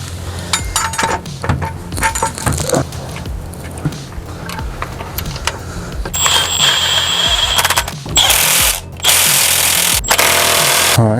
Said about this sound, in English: and our Milwaukee ratchet, and let's do this